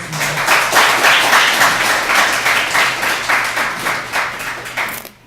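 An indoor audience at a launch ceremony bursts into sustained, steady applause, loud and even throughout before fading out at the end.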